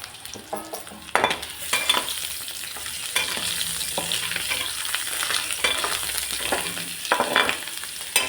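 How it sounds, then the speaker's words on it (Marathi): Potatoes fry in a pan for dum aloo, a close, steady sizzle broken by repeated scraping stirs of a spoon against the pan, with no voices. "चला बटाटे फ्राय होत आहे, काढून बघू।"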